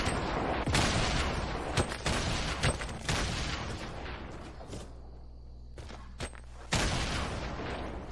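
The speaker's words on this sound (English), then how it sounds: "They're chucking grenades." Video game combat with grenades exploding amid gunfire: dense bursts of rapid shots and sharp cracks, then a quieter lull with scattered single reports, before a heavy blast and more firing return.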